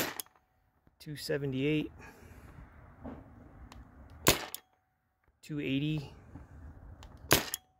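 A Spyder Rodeo paintball marker with a spring setup fires from an HPA tank: two sharp, loud cracks a few seconds apart, separated by stretches of a person talking.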